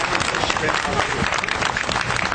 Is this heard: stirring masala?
no